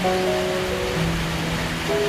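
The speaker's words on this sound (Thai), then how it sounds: "ฝนตกหนักมากตอนช่วงบ่ายสามโมงเวลาบ่ายสามโมงนะ" Heavy afternoon rain pours down by a roadside shelter in Na Di subdistrict, Surin province, a dense, even hiss filling the short stretch with faint tonal hums beneath.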